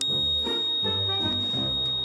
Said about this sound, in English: So this is a buzzer, and it makes a